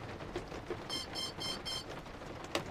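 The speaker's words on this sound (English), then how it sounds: "throttle down after you hear the two beeps" Electronic beeps from the ESCs of an S500 quadcopter drone during throttle calibration: a few short, bright tones in quick succession, faint over a low background hiss.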